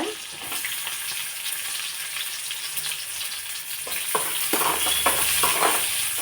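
Onions frying in a pan with cumin, curry leaves and chillies for sprouted-bean palle, a steady close sizzle with spatula scrapes and stirring strokes growing busier toward the end, no voices.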